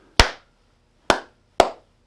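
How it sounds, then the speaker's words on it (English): Three sharp hand claps in a small room treated with acoustic foam to cut echo, close and loud, the first two about a second apart and the third quicker, each with a short, damped decay. "Clap, clap, test, test."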